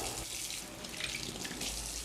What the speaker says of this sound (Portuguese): Passa o tomate na água